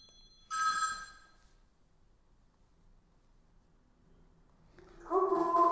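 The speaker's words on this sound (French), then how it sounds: "lorsque l'appel est lancé, encore une fois, la barre LED s'allume, puis on va avoir une sonnerie" A senior-friendly Iris Family video-call device sounds its incoming-call ringtone: a short melodic chime near the start, a quiet pause, then a second louder tone burst at the end, with no voices.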